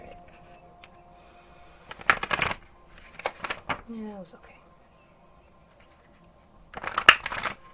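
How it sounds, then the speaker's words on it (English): Tarot cards shuffled in two brisk riffling bursts close to the mic, separated by scattered handling noises and a brief voice, with a quiet room in between. "Give me like one really good shuffle"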